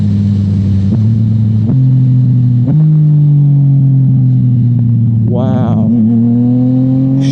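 A Yamaha FZ-09 motorcycle accelerates hard in standard mode, its engine droning loud and near with rising pitch through several gear shifts, while a rider's voice exclaims briefly over it.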